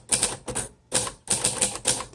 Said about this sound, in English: excellent typing machine